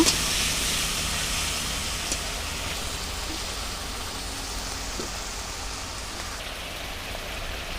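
Prawns fry in hot oil in a pan, giving a steady, even sizzle like rain that runs unbroken throughout, close and moderately loud with a few soft clicks.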